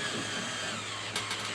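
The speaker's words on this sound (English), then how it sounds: "We're going to use the drill again. I like to put it in the number 1 so it goes slower." A cordless drill on its slow first speed setting whirs steadily, winching a Harley-Davidson cruiser motorcycle up a Neo-Dyne loader into a truck bed. The motor drone is constant and fairly close, with a few faint clicks near the end.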